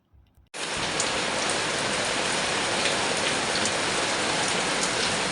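Steady, heavy rain pours down continuously, a dense hiss of drops hitting surfaces after a brief quiet start.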